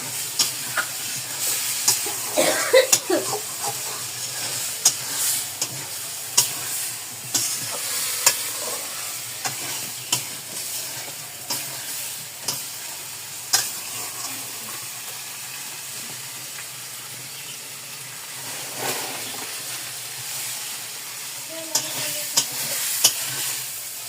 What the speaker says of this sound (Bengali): তরকারি কষাচ্ছি, ভালোভাবে কষালিয়ে তারপরে ঝোল দিব।